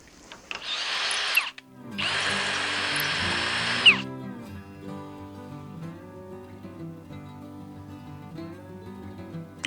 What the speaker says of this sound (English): I'm going to run a drill through that and open that up a little bit